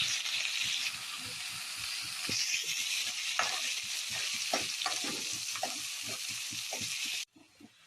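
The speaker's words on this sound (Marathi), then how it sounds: "आता हे वाटण आपण चांगलं तेल सुटेच तोपर्यंत परतवून घ्यायचं" Masala paste fries in oil with a dense, steady sizzle up close. Frequent light stirring scrapes and taps run under it, and the sound cuts off abruptly near the end, with no voices.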